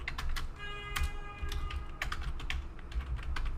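Fingers tap out a quick burst of keystrokes on a computer keyboard, close and crisp, with irregular clicks and short pauses between them and no talking.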